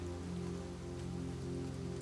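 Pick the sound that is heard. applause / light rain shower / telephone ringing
light rain shower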